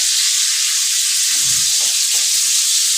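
Tomatoes and green chilies sizzling steadily in an oiled pan, a constant bright hiss with a soft stir or clink midway, no voices.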